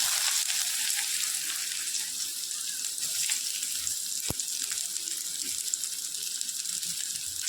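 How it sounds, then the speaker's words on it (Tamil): Chopped onions sizzling in hot oil with mustard seeds in a pan while black chickpea gravy is being cooked, a steady close hiss of frying with a faint clink partway through. "இப்போ இதை நல்லா வதக்கி விட்டுருவோம் ஆனியன் நல்லா வதங்கட்டும்"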